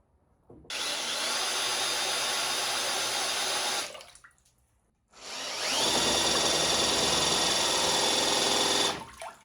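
A power drill spins a 3D-printed impeller for a 1968 boat engine's water pump, mounted on a shaft through a hose-and-round-bar adapter. It makes a steady, loud whirring hum for about three seconds, a short pause, then a second equally steady run.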